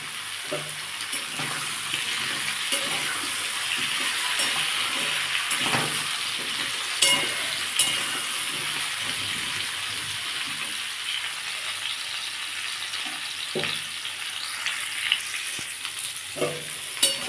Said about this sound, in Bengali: লাউটা দিয়ে একটু ভেজে নেবো